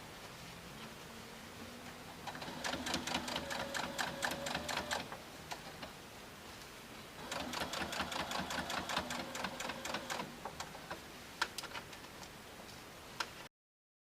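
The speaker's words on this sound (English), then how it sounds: "I'm going to stitch about 1/8 of an inch from the edge all the way around." A sewing machine stitches close to the edge of a quilted tote bag in two rapid ticking runs with brief pauses and soft fabric handling between them.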